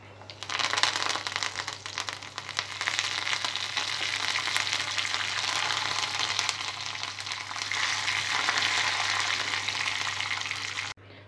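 Mustard seeds, cumin, dried red chillies and curry leaves crackle and sizzle in hot oil, a loud continuous frying hiss with a constant low hum beneath, stopping abruptly near the end.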